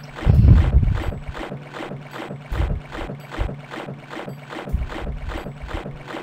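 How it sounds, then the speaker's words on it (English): A boat in the Richard Scarry's Busytown video game makes a rough, chugging engine noise, a steady run of rhythmic pulses repeating about twice a second, loud and alone. "It's like a really horrible boat noise."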